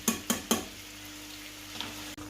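Bacon and sausage in a frying pan, heard as three quick metallic clanks from utensils against the pan over a low, faint sizzle, then a brief softer tap and a sudden cut near the end.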